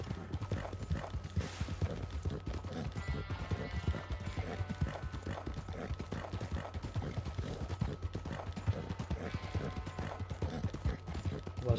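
Rapid, steady clip-clop of a Kladruber horse's hooves in Red Dead Redemption 2 Online continues throughout at a quiet level, a galloping rhythm with no voices.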